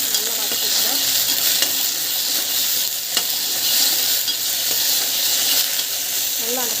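Salt goes into a pan of sautéing vegetables, giving a steady, loud, close sizzle with scattered stirring scrapes and soft utensil taps throughout, no talking.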